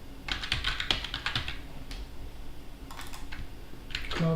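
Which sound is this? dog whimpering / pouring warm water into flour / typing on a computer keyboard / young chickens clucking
typing on a computer keyboard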